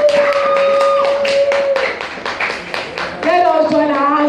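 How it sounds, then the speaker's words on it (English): Audience at a Praying Mothers Conference claps to welcome a woman to the podium, a run of sharp, fairly steady handclaps with sustained tones and a voice heard alongside. "Let us clap our hands together as we welcome on the podium Mrs."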